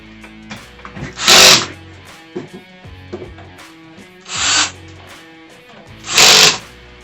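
A power drill whirs in three short, loud bursts while tightening cam locks on a Mainstays open shelf nightstand, separated by quieter clicks and handling noises.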